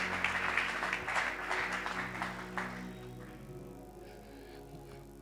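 A church congregation at a morning service claps in praise, a dense wash of applause from many hands that swells briefly, then thins and fades over a low sustained background tone.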